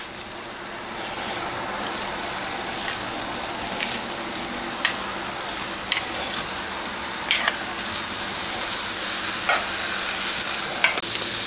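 Peas and cooked potatoes for a samosa filling are stirred in a hot pan under a steady, close sizzle, with occasional light scrape and click accents from the spoon throughout and no talking.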